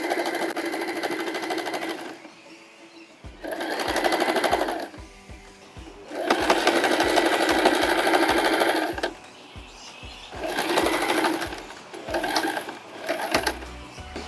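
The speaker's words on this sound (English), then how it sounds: "now I'm done sewing the bottom edge of the off-shoulder top" Sewing machine zigzag stitching a 1 inch folded hem on an off-shoulder top, close and loud in several separate runs broken by quiet gaps and clicks, with no talking.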